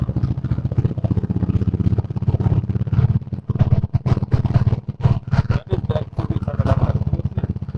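An XUV's engine labours steadily uphill in second gear, a dense mid-range drone with rattling clatter and scraping bumps throughout, close and continuous.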